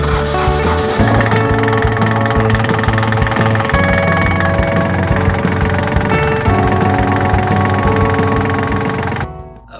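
A boat engine with a freshly restored pump fitted runs loud and close, a continuous dense mechanical drone with a rapid ticking rhythm, cutting off abruptly at the end.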